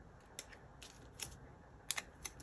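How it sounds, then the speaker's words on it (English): Scissors snip through a piece of green paper, producing a handful of quiet, crisp cuts in an irregular rhythm, close and soft, with no talking. "I'm gonna cut it because it's kind of big and I don't want it to be this big. I'm just gonna cut out this bottom part here."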